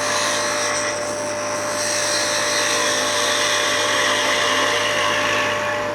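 A woodturning lathe runs with a steady high whine while a round hollowing cutter makes a shear cut, the continuous tone close and even with a faint hiss of the cut throughout, no voices.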